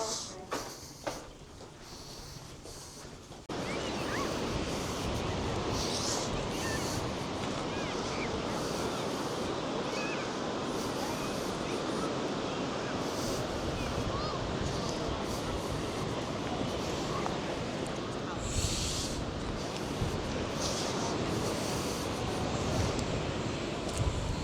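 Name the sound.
wind blowing on a coastal walk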